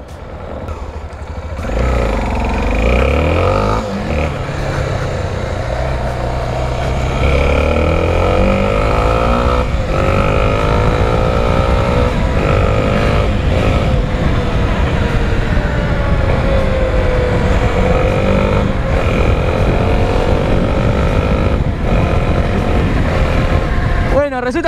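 A borrowed Honda Tornado motorcycle ridden through city streets at night, its engine droning steadily and rising and falling through gear changes, with a voice talking over it throughout.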